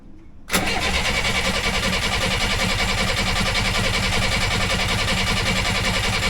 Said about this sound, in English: It's going to turn the engine over, and we'll see how we go.